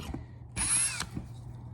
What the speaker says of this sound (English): Got our hole drilled.